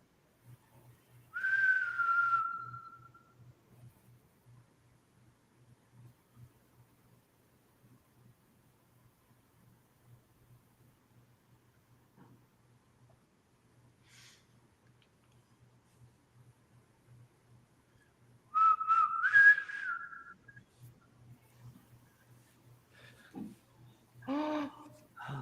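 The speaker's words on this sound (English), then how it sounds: "I just heard whistling." Two bursts of whistling, one early and one later, each a short rising-falling tune, over a faint steady low hum with quiet stretches between.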